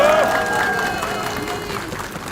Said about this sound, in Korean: 따뜻한 박수 부탁드립니다.